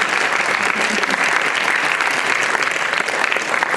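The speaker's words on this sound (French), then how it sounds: "Sous vos applaudissements" Steady, dense applause from a large audience at the trophy ceremony of a piano competition final, loud and sustained throughout with no pause or talk.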